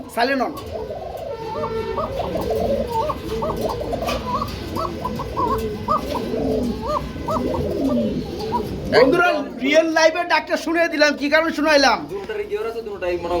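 Pigeons coo repeatedly at a busy pigeon market, with soft throaty calls layered under people talking nearby, then several louder close coos toward the end.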